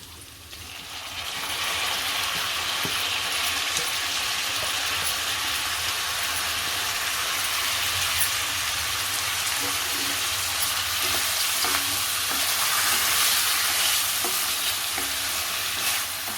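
Washed barnyard millet rice tipped into a pan and stirred for a fasting pulao, a steady loud wash of frying hiss and scraping that swells after the first second and runs on evenly, no talk.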